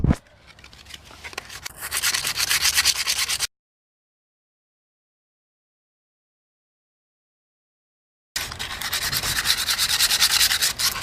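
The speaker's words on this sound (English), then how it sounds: "I'm finished sanding this." Rhythmic abrasive rubbing of sandpaper by hand on a factory aluminum Astro van rim, loud and close, in two bursts separated by a gap of silence.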